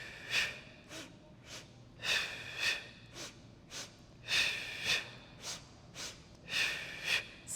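Breath pushed out sharply in paired bursts during the Pilates hundred in an advanced mat workout, a rhythmic sequence of close, airy huffs repeating every second or so with quiet gaps.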